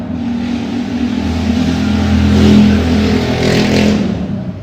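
A loud car revving outside at night, a continuous rumbling engine roar that swells slightly in the middle and holds steady throughout, with no talking.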